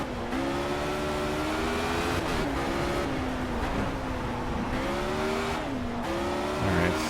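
A race car in the Project Cars video game, its engine revving hard and rising and falling through gear changes, with tire squeal near the end, loud and continuous with no talk.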